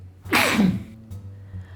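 A single sharp sneeze with a quick inhale before it, followed by a brief breathy pause, close and fairly loud.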